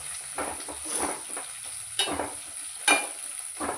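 Ginger and garlic fry in oil for a pickle: a continuous close sizzle with rhythmic stirring scrapes and a few sharper clinks of the spoon against the pan, with no talking.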